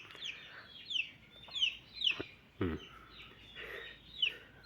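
Backyard Jersey Giant and Ancona chickens, about two months old, give repeated short clucks and rising calls at a steady pace, close by, with one sharper squawk midway and no talking.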